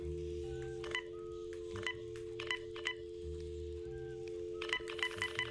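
Telephone keypad tones beep in quick, irregular clusters from a phone in the VR game Cat Sorter, clear and alone over a steady low hum.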